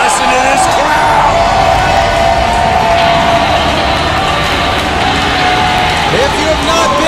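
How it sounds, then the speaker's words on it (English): A large wrestling arena crowd roars and cheers continuously in a dense wash of noise, steady and loud throughout. "listen to this crowd!"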